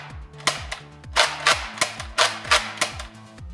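A toy foam blaster is repeatedly primed and fired, giving a rapid series of sharp plasticky snaps and clacks about every half second, close up and loud with no talking.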